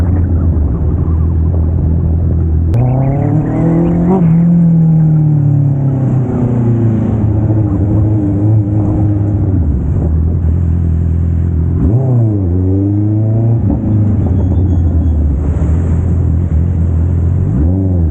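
A vehicle engine rev-bombing on an open road, loud and close: a deep steady drone broken by several sharp rising revs and throttle blips that climb and fall back, with no voices.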